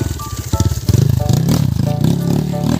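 A motorcycle rolls downhill with a loud, close engine rumble that holds steady and pulses slightly, along with some rattling and clatter from the bike.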